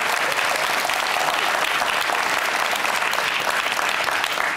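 A crowd at an outdoor lighting ceremony breaks into sustained applause, dense clapping that stays loud and even for several seconds and fades slightly at the end, with no speech over it.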